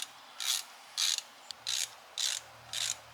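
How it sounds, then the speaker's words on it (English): A hand ratchet works loose the 13mm caliper bracket bolts on a Ford F150, giving five evenly spaced bursts of sharp clicking, close and distinct, with brief silences between strokes. "you have these two size 13mm bolts that we have to take out"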